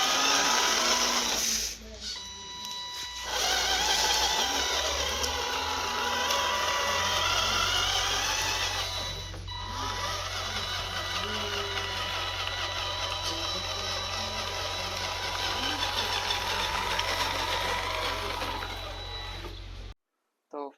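Small electric motors of RC model tractors and trucks whir and whine steadily for about twenty seconds, close and fairly loud with gear-like mechanical buzz. The sound dips briefly twice near the start and stops abruptly at the end.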